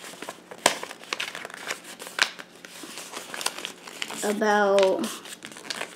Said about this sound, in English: now we're gonna take this bottom and fold it up